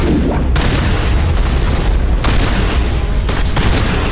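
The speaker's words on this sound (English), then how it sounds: "Let's try this new shotgun out." A shotgun fires in Mass Effect combat, heavy booming blasts amid continuous loud gunfire and explosions, close and dense with no clear pause.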